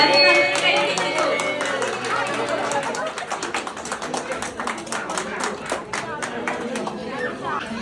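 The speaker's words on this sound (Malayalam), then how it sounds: "ഇങ്ങോട്ടേക്ക് എല്ലാവരും നല്ലൊരു കൈയടി കൊടുക്കൂ." Applause at a Kerala engagement ceremony, a steady patter of many hands clapping through the whole stretch alongside crowd chatter, with a voice speaking over it at the start.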